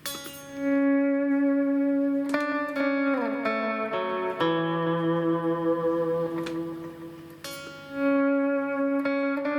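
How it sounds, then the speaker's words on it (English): Sustained electric guitar notes swell in smoothly without a pick attack and shift pitch several times, ringing with echo and a violin-like tone. "he'll just pick a note and then fade it in so it sounds like it's, well, like this"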